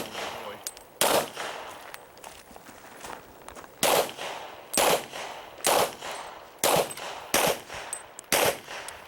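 Pistol shots ring out across an IDPA match stage at an outdoor rifle and pistol club, loud sharp cracks coming singly and in quick pairs with short pauses between strings, over faint background shuffling.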